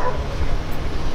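A dog barks and yips close by in a short, loud burst at night outside a demolished, abandoned mall.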